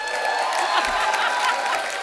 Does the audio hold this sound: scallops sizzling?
no